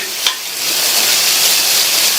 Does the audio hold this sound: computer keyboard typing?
no